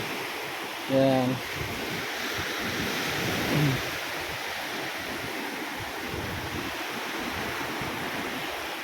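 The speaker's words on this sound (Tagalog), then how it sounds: "kahit sa tunog lang ng alon, ang sarap ng pakinggan." Surf breaking on the white-sand shore of Jumeirah Beach in Dubai, a steady broad wash of waves under wind noise, with a voice speaking briefly near the start and again a few seconds later.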